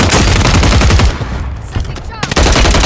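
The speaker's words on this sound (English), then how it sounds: "Oh, they're shooting at me." Rapid automatic gunfire in a video game shootout, loud sustained bursts that thin out briefly midway and then return with sharp close shots.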